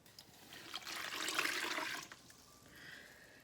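Three cups of warm water poured into a bowl for artisan bread dough, a steady splashing stream that swells, holds for about a second, then tapers to a light trickle.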